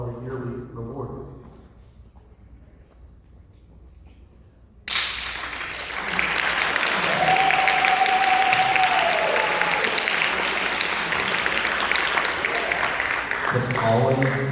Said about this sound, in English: It always disturbs me how easy it is to get band students to cheer for anything.